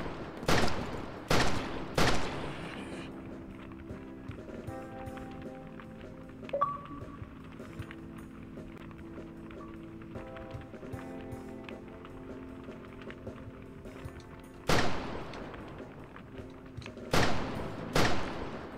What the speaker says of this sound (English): there's more than one button to shoot your weapon